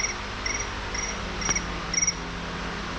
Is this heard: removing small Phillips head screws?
no